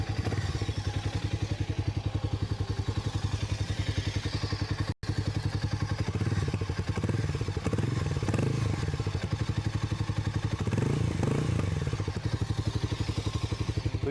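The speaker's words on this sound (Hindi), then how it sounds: "किसी मोटरसाइकिल की कहानी और ख़ासकर हार्ली डेविडसन की कहानी तो शुरू ऑब्वियसली एग्जॉस्ट नोट से होनी चाहिए" A Harley-Davidson X440 motorcycle idles just after starting, its exhaust making a loud, steady, rapid thumping beat close by. Small clatters rise briefly over the engine note, and no one speaks.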